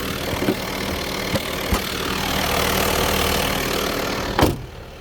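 A VW Transporter 2.5 TDI diesel van engine idles steadily at close range, a continuous rough mechanical drone with a few clicks and a brief knock near the end.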